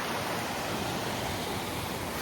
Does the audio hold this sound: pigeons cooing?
no